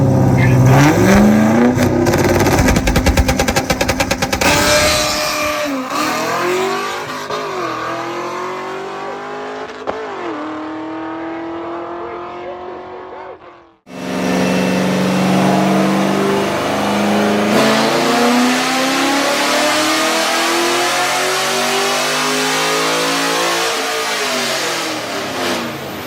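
A Studebaker race car engine roars at high revs on a dyno, a loud sustained wail rising and falling in pitch, cutting out abruptly near the middle before a second long, powerful pull.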